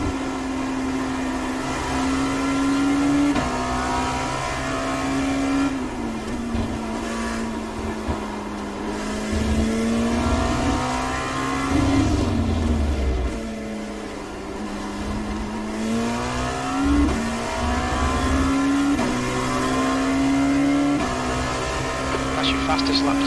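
A Dallara P217 LMP2 prototype race car engine in the iRacing simulator at Circuit of the Americas drones loudly, rising and falling with gear changes through corners and straights, while a voice talks over it.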